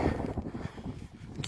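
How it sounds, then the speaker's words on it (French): Outdoor wind gusting into the microphone in the Morvan countryside near Lucenay-l'Évêque, a rough, buffeting rumble that rises and falls over a short stretch. "Il y a le vent, désolé s'il y a le vent"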